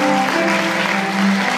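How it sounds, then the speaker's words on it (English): Audience applause for a youth group at a church service, a steady wash of clapping at close range over a sustained musical tone underneath. "Let's give this group a round of applause."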